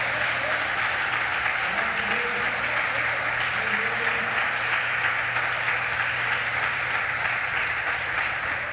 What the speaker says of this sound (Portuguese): Se você puder aplaudir o nome do Senhor em louvor a Ele